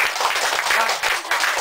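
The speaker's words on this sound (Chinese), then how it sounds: "我们一个掌声先到这" Steady applause from an audience after a documentary screening and post-film talk, continuous, close clapping that stays even throughout.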